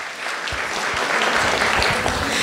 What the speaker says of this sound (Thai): ขอเสียงปรบมือให้กับทีมโรงพยาบาลเชียงรายประชานุเคราะห์หน่อยค่ะ